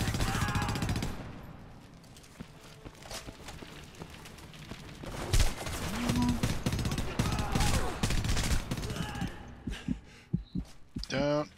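Gunfire in the video game Homefront, bursts of rapid shots and explosive impacts mixed with game sound effects, with a player talking over the action.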